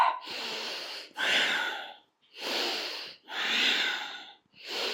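Deep breathing during chair yoga, loud and close, with long airy inhales and exhales alternating in an even rhythm and short silent gaps between them.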